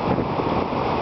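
River rapids at Little Pine Rapids on the French River give a dense, steady roar of rushing water, with some wind buffeting mixed in.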